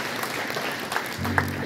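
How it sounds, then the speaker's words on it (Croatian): An audience at a singing contest awards ceremony applauds winner Dragan, a steady patter of many hands clapping in a hall, moderately loud, with a brief tone near the end. "vas molim da našeg Dragana nagradite i još jednim velikim pljeskom"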